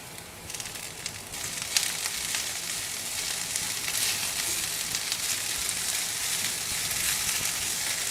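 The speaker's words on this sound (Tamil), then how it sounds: "சிம்லேயே வச்சு இது வதக்கணுங்க." Mint leaves and tamarind sauté over low heat in a pan for mint chutney, giving a steady soft sizzle and crackle throughout with no talking.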